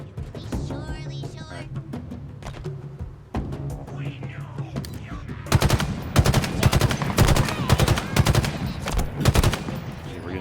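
Rapid automatic gunfire in Halo Infinite's campaign, scattered shots early then dense, loud sustained bursts in the latter half, with a voice talking in between.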